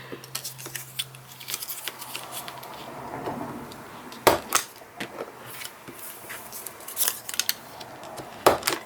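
Scissors snipping around the corner of a paper envelope for a craft project, a series of crisp close cuts and paper rustles with a few louder clicks.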